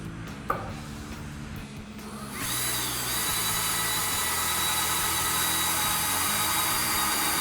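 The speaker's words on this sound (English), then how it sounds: "So now we're gonna go ahead and drill our holes." A power drill boring holes in wood whines steadily and loudly after a brief clatter, running continuously for several seconds with a high, even motor tone.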